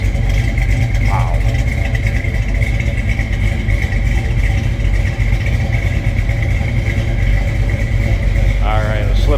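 A 1968 Plymouth Barracuda hardtop idles with a deep, loud, lumpy rumble that stays steady and close, with a couple of brief voice sounds over it.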